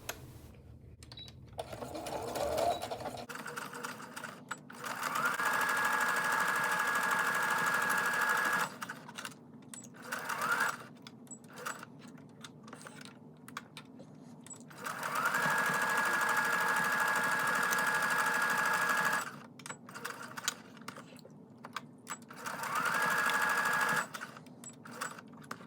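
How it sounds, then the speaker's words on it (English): A sewing machine runs a straight stitch on towel fabric in steady whirring bursts, three long runs of several seconds each separated by short pauses, moderately close with no talking. "I'm going to sew a straight stitch here and here."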